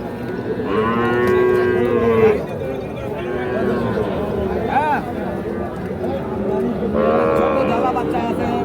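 Young calves moo loudly and repeatedly at the Ambari cattle market, several long drawn-out calls close by, over a constant murmur of crowd chatter.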